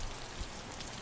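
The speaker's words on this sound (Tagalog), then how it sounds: "Mukha rin kasi magtatagal ang ulan." Rain falls steadily from a dark sky, a faint continuous hiss of drops spread evenly throughout with no voices.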